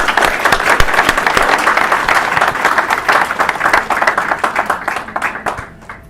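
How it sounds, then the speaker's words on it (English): Loud, close applause from a lecture audience thanking police officers, dense crisp claps that stay strong throughout and thin out toward the end. "Let's give them a round of applause."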